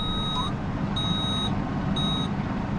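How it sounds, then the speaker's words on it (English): Three evenly spaced electronic warning beeps from a tractor, each about half a second long, sound over a steady low engine idle as it is put in drive with the clutch out. "Kirk, when I put it in drive and I pull the clutch out, it beeps at me"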